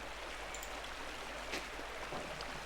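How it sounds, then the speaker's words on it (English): A waterfall in the video game Pentiment rushes steadily at low level, a constant hiss of falling water with faint splashes and no voices. "Waterfall is always so beautiful."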